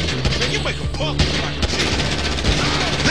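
Rapid loud pistol shots in GTA 5, a dense burst of close gunfire cracking repeatedly throughout a brief stretch.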